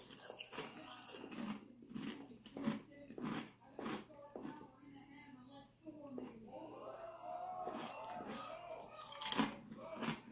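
Ruffles Double Crunch Hot Wing potato chips are bitten and chewed close to the mic, with irregular crisp crunches and munching under intermittent quiet talk.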